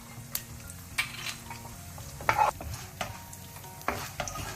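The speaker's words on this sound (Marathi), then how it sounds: "सासांव फुटोन येताना ताका आमी चण्याची दाळ आनी उडदाची दाळ घालची" Mustard seeds spluttering in hot ghee with chana dal and urad dal, heard as a soft frying hiss punctuated by scattered pops and spoon scrapes against the pan, close and without talk.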